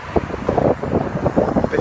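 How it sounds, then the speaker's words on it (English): Strong wind buffets the camera microphone outdoors in a park, a loud, continuous rumbling roar with gusty fluctuations throughout. "it's quite windy as well, so I hope you can hear me okay"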